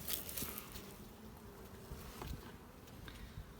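Honeybees buzz steadily around an open Carniolan hive, a soft, continuous droning hum with a few faint taps, quiet and close with no voices.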